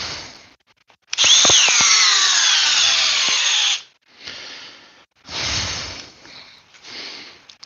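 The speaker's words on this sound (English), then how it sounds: "It's just not a strong drill, like in any way, shape, or form." A Makita cordless power drill whirs at full speed for a few seconds, then runs in shorter bursts with brief pauses between them, close and loud with no talking.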